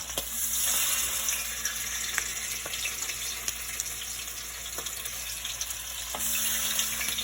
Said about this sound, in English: And you can hear it sizzling, and I'm just taking off the chicken.